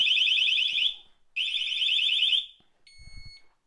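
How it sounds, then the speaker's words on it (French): A Cranns disc lock alarm module sounds its siren: a loud, piercing electronic wail runs for about a second, stops, returns for another second, then gives way to a short softer tone with a faint low knock. "Le volume de la sirène qui peut être réglé ici."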